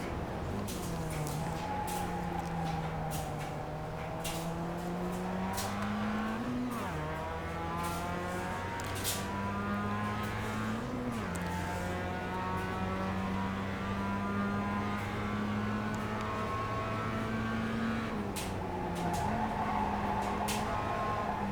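An iRacing race car at the Tsukuba circuit in the video game, with the engine note climbing and dropping through shifts and amplified tire squeal rising in the corners, continuous and fairly loud.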